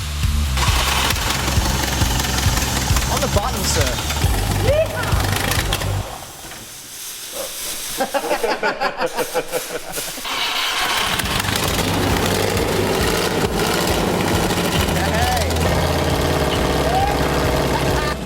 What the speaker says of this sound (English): We're going to fire the engine up.